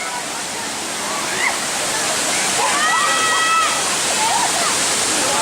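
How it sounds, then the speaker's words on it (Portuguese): A waterfall on a forest trail in Corupá, Brazil, roars loud and steady close by, with people's excited voices rising over the rushing water. "Então essa aqui é a cachoeira número 2."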